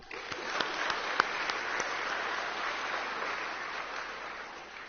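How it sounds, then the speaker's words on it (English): School assembly audience clapping for the boys and girls golf teams after a City Prep title, a fairly distant, muffled wash of applause with a few sharper claps near the start. "so clap it up for them."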